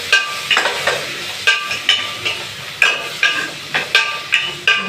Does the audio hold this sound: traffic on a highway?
no